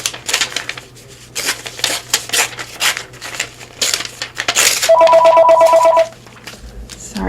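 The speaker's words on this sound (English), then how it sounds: "usually I take the house phone out of my studio so that it doesn't disturb me when I'm filming" A house phone rings once in a home craft studio, a bright, loud electronic trill lasting about a second, following a stretch of papery rustling and handling noise from the workspace.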